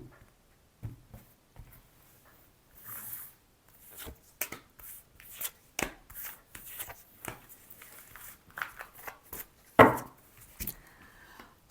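Tarot cards are shuffled, flicked and laid down in a quiet room, giving a series of soft, irregular slaps and riffles spread over several seconds with faint talk between.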